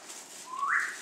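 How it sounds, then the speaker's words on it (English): A short, single whistle from a person rises in pitch and swells briefly, faint and heard alone. "He's whistling back."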